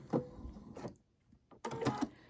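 A sewing machine stitching in reverse for three back stitches on a LeMoyne star quilt block, short mechanical whirring bursts separated by pauses, close and fairly loud with no talk.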